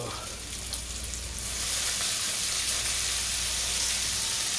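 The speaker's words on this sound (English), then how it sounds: "I love the sizzling sound when I'm cooking." Garlic sizzles in hot olive oil in a pan for linguine, a dense, steady frying hiss that swells loud and close after a quieter start and then holds continuously with no talking.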